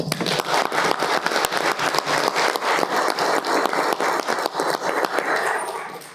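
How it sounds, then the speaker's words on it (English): Meeting audience at a county fiscal court session gives a sustained round of applause, dense steady clapping for about six seconds that fades toward the end. "Please join me in giving him a round of applause."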